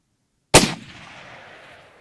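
A single loud rifle shot fired at a mountain reedbuck ram in South African hunting country, a sharp close crack with a long fading echo rolling away over the next second and a half.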